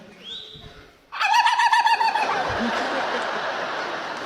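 A voice imitates a turkey, a rapid warbling gobble that starts loud and breaks into laughter-like noise, after a brief quiet lead-in.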